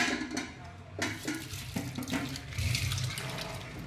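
Tap water runs over green chillies being washed for a fasting-day snack, a close splashing stream with uneven gurgles and a few brief clinks, loud and alone without talk.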